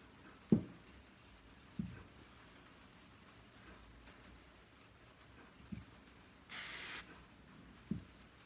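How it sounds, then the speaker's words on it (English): Hairspray hisses from an aerosol can in one short, steady burst over a vintage victory roll hairstyle. The spray is close and clear against a quiet room, and a few soft knocks and handling taps come before and after it. "give it a spray"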